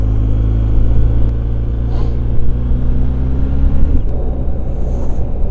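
BMW R1250 GS motorcycle engine pulling hard under acceleration during an overtake, a loud steady low rumble with rising harmonics that shift around the four-second mark, with wind noise throughout.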